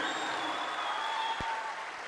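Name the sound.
audience applause welcoming the performer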